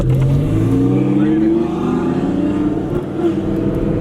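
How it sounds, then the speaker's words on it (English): A V10 car revs hard and pulls away, its loud engine tone sweeping upward in pitch and staying strong and steady throughout. "There she goes."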